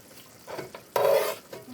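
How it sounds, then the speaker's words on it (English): A spoon stirs bacon bourbon jam sizzling in a pan, a short close scrape and swish over a soft frying hiss, with one louder stroke in the middle. "Okay, I'm going to stir a little bit longer"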